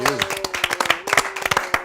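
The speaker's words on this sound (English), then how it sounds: "Give yourselves a round of applause." Quick, close applause for a talk-show panel on LGBTQ people in film and TV, with a voice speaking over the claps.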